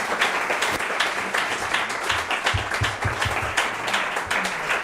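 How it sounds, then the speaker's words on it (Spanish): Steady applause from an audience fills the whole stretch, dense clapping at an even level with a faint murmur of voices underneath. "Un aplauso, por favor."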